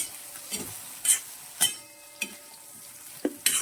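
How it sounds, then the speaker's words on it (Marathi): Soya chunk filling sautéing in a pan, a soft continuous sizzle broken by several distinct spatula scrapes and taps at irregular intervals, heard up close. "परतून घ्यायचं आहे हे सारण परतून घ्यायचं आहे"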